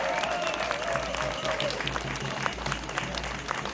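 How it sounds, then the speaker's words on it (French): Warm, continuous applause from a festival crowd honouring a newly inducted knight at a village celebration, fairly close and steady, with some murmured voices mixed in. "On applaudit le chevalier des Clastres."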